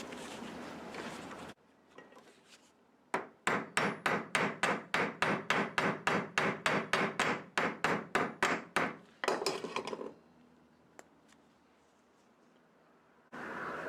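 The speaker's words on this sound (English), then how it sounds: "So I assemble it out of the car and peen over one side" Someone hammers to peen over the pins on Model T brake shoes. After a few isolated taps comes a fast, even run of about twenty sharp metallic blows, then a brief scrape and one final tap, close and clear.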